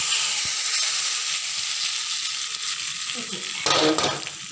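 A hot tempering is poured into a Kottayam-style sword-fish curry, giving a loud, steady sizzle and crackle up close, with a short burst of bubbling spatter near the end.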